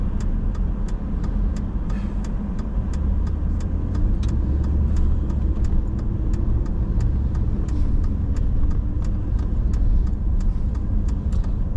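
A car drives steadily along a road near Minot, North Dakota, its engine and tire rumble forming a continuous loud, even drone with no voices.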